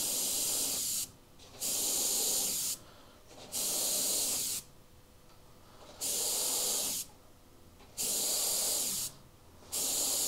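An airbrush spraying paint through a stencil for a Halloween skeleton piece, repeated bursts of bright airy hiss lasting about a second each with short pauses between, close and even, without any talk.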